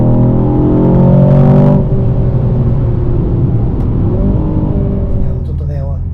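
Aston Martin DBX707 2025 super sport SUV on a Hakone mountain road, its engine note pulling steadily with strong acceleration and a brief rise in revs, heard from inside the cabin under ongoing speech.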